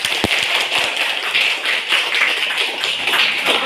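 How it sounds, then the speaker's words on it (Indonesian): Scattered light applause for two participants at a school teachers' event, a steady patter of many hands clapping with a brisk tap near the start, continuous and fairly close. "Kita kasih aplaus dulu buat mereka berdua."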